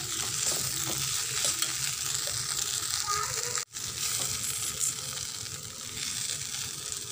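Greens with green gram being stir-fried in a pan for a thoran: steady sizzling with repeated scraping and stirring throughout, close and fairly loud, broken by one brief sharp dropout midway, with no talk.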